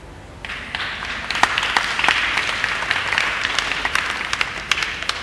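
Applause from a church congregation during a sermon: a steady, fairly faint wash of many hands clapping for several seconds, with distinct claps popping out now and then and no speech.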